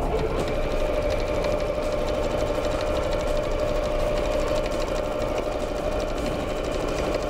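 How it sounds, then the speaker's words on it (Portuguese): A sewing machine runs steadily, stitching a straight seam on a fabric bag with an even, continuous mechanical whir and close, unbroken hum. "E vou passar outra costura reta."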